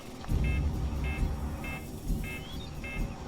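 An alarm sounds during gameplay in Far Cry 6, giving repeated short electronic beeps in a steady pulse over a rumbling low background of game engine and ambient noise, with no talking.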